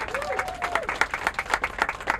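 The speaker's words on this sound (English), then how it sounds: "How about a nice round of applause for Joyce Stanley" Audience applause at the Boston Main Streets Awards ceremony in Dudley, steady dense clapping from a sizable crowd throughout, with a brief voice heard over it near the start.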